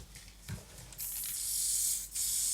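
Liquid bursts out of a container with a loud, sustained hiss of spray that starts abruptly, breaks off briefly, then surges again, heard up close indoors.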